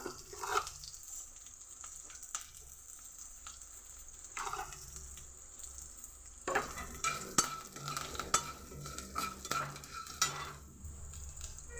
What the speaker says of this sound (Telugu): ఫ్రై అవుతుంది చూద్దామండి ఒకసారి చూడండి ఫ్రై అవుతుంది